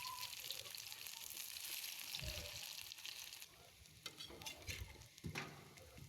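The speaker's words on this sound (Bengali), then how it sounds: "আমি আজকে বেশি বড়া ভাজবো না" Fritters (bora) frying in a pan, a steady broadband sizzle with occasional stirring clatter, moderately close, continuing throughout with no talking.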